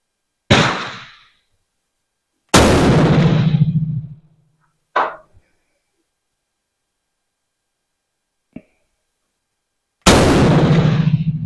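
Sharp, loud rifle shots from a MAS 49/56 crack out at intervals, each decaying quickly into silence, with a faint click between them and a final shot near the end.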